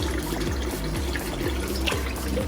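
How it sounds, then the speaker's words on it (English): Water pours steadily into a cooking pot of lentils already seasoned with onion, garlic, ginger, chili powder and curry powder, a close, continuous splashing fill. "and then we add water"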